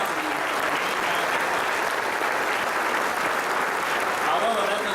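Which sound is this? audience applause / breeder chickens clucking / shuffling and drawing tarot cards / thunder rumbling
audience applause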